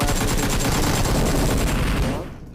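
AKM rifle fire in PUBG Mobile: loud, continuous rapid automatic bursts dense enough to blur together, cutting off abruptly near the end.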